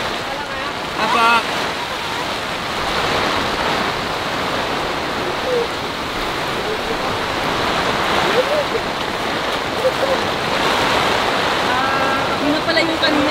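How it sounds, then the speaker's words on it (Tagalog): A strong, continuous typhoon wind roars and rushes past the microphone, broadband and unbroken, with occasional faint voices beneath it. "Tuloy-tuloy talaga eh. Tuloy-tuloy yung hangin."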